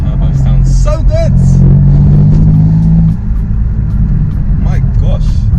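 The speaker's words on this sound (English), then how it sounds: "The turbo sounds so good!" Turbocharged BMW M4 engine pulling on a London street, a loud, close rumble that builds and holds, then eases off partway through while people talk over it.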